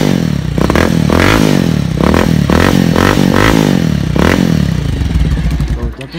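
A Bajaj Pulsar 220 BS4 motorcycle fitted with an Akrapovic exhaust revs hard and close in a series of about six throttle blips that rise and fall over a loud, steady idle.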